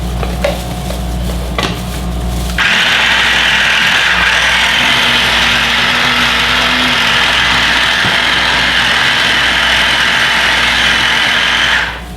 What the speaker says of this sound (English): let's get started with the process of grinding this salmon and shrimp up